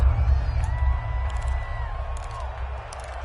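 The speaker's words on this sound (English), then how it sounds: "The crowd getting into it as we come up on a big third down." Stadium crowd in an American football video game on PS4 roars steadily as a big third down approaches late in the game, a continuous broad swell of cheering with faint whoops and distant commentary-like tones underneath.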